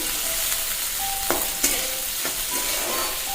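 Onion and tomato fry in a pan with a loud, continuous sizzle, punctuated by a few sharp spatula scrapes and taps over the short stretch.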